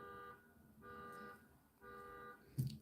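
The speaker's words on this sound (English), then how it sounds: "The car alarm is on now, which is interesting." A car alarm going off outside, faint and distant, repeating in on-off pulses of a buzzing tone, with a brief louder knock near the end.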